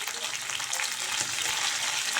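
Taro root slices and curry leaves fry in hot oil in a pan, giving a steady, dense sizzle that stays loud and even from start to finish with no voices over it.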